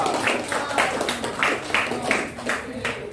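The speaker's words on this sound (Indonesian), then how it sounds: "Yuk kita beri tepuk tangan untuk kerak telur" A classroom audience claps for a student group named Kerak Telur, giving a steady, rhythmic applause of repeated bursts at an even pace, close and moderately loud.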